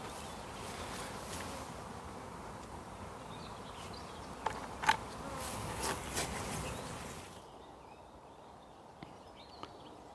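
A honey bee swarm buzzes inside a commercial beehive, a faint, steady hum with a few brief knocks and clicks that thins out toward the end.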